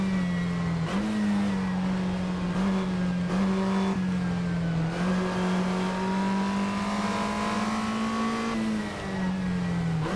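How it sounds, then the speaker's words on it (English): A historic race car in a racing video game drives down a straight, engine note climbing through several sharp gear shifts before dropping as it brakes hard; loud, close and continuous with no talk. "Down the Levant straight, powering through the gears, then braking heavily for Woodcote,"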